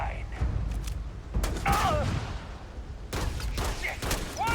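Gunfire in a Skyrim-style first-person video game: rapid bursts of shots and thumps with whooshing effects, loud and dense across the whole stretch, with game sound layered throughout.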